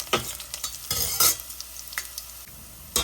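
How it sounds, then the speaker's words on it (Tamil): Garlic sautés in oil in a pan for a sardine fish curry. The sizzle is constant, and a spoon stirs and scrapes in several short, separate bursts. "பூண்டு ஓரளவுக்கு வதங்கிடுச்சு."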